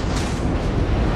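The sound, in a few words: naval guns firing in a warship video game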